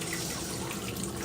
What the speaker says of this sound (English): Keep putting hot water on the spots that hurt usually the most for you.